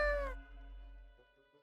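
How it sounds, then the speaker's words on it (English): A video game cat gives a contented meow, a short, clear, rising-falling mew near the start that fades into a quiet tonal background hum. "Meow, the cat mutters in contentment."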